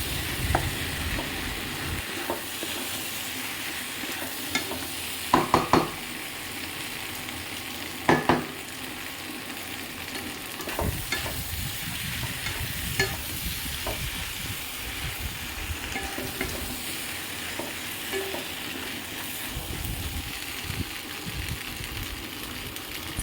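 Pasta gets stirred in a frying pan over steady sizzling, with occasional spatula scrapes and a few sharp clacks against the pan, close and continuous.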